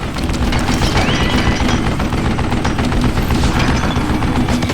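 Rapid, loud automatic gunfire from a mounted gun in Call of Juarez Gunslinger, a dense unbroken stream of close shots with booming impacts over a few seconds.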